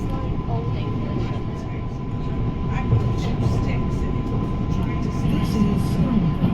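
A Merseyrail electric train runs between Birkenhead Central and Hooton without stopping, giving a loud, steady rumble of wheels and motors with a faint whine and no break in the noise.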